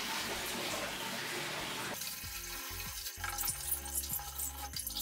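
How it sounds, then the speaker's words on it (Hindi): Water thrown and splashing against an air cooler's honeycomb cooling pad while it is scrubbed by hand, a steady wash of spray giving way to wetter irregular splashes and rubbing; the pad belongs to a Crompton Optimus 100-litre desert air cooler. "कुछ इस तरीके से पानी को थ्रो करके धीरे धीरे आप हाथ से ही रगड़ के हनीकॉम पैर को क्लीन कर सकते हैं।"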